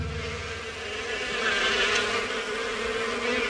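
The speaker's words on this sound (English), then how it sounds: "It sounds like something buzzing." Bees buzzing in a children's cartoon: a steady, fairly loud insect drone that runs unbroken through the whole moment, with no voices over it.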